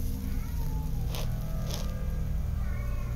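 A cat meows twice, brief and fairly clear, over a steady loud background hum.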